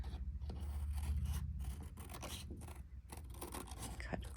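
Scissors cutting paper for a whimsical owl keychain craft, a close run of crisp snipping and rasping cuts over a low steady hum.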